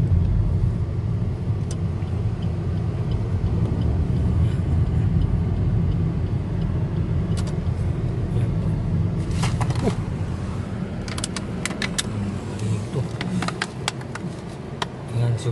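Cars passing in road traffic at a pedestrian crossing, a steady low rumble of engines and tyres running throughout with brief brighter passing sounds, and faint voices in the background.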